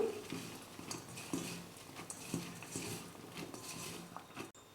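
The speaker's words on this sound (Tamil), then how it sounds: "இப்போது எல்லாத்தையும் சேர்த்து வெங்காயத்தோடு நல்லா கலந்து கொடுத்துக்கணும்" Sliced onions, green chillies and curry leaves being mixed by hand in a bowl for a wheat-flour onion snack, heard as soft, irregular rustling and patting with light taps against the bowl, faint and close.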